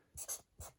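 Pen or pencil strokes writing a fraction by hand, close by, in three short scratchy bursts with brief pauses between.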